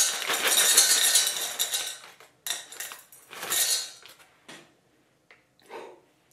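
Dry pasta pours from a bag into a kitchen container for weighing, making a dense rattling rush that breaks into shorter bursts and scattered clinks, close by, with no talking.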